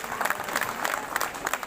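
A crowd at an Aam Aadmi Party protest rally against Modi and Adani at the ITO party office claps loudly for Sanjay Singh, giving a short, steady burst of dense applause.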